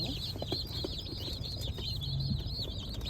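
A flock of chickens clucks and chirps continuously nearby, a busy high-pitched chorus over low rumbling background noise.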